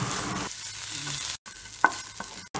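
Crushed ginger, garlic and black pepper sizzle hard in a hot pan for rasam, with a steady crackling hiss, stirring scrapes and a few brief drops to silence.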